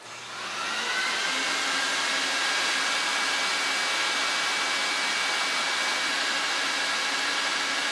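A carpet cleaning machine on Karastan carpet spools up and then runs with a loud, steady suction roar and a faint high whine, with no break.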